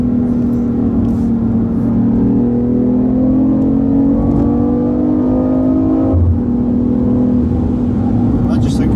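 A BMW i8 hybrid sports car pulls steadily with a rising, smooth whirring tone under close cabin chatter, easing off briefly before climbing again.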